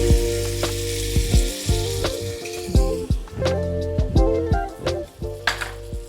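Tamarind paste hitting a hot pan of tempering for methi pulihora, loud close sizzling with several sharp utensil clacks and scrapes, no speech.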